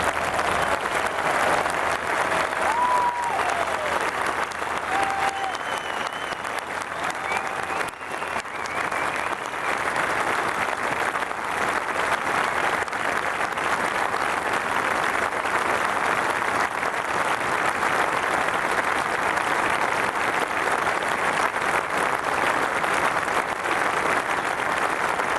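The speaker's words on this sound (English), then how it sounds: "can I ask you all to join me in a short applause in remembrance of Sevi Ballesteros" Sustained applause from a golf ceremony audience at the 140th British Open at Royal St. George's, honoring Seve Ballesteros; steady broadband clapping from a large crowd runs the full length, with a faint voice at the start.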